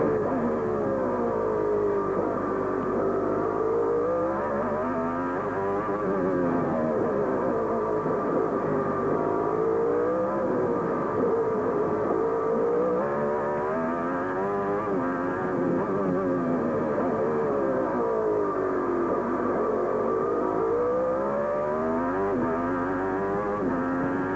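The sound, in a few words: Honda IndyCar race car engine note, flat-sounding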